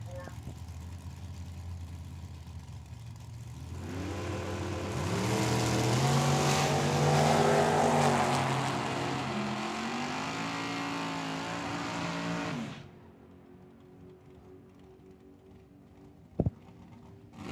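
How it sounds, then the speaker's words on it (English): A dragster and a Fox body car launch side by side at Tucson Dragway, a loud roaring run that builds and holds for several seconds before cutting off, with distant crowd noise and talk around it. "Dragster here on the left-hand side. Good looking Fox body here on the right-hand side."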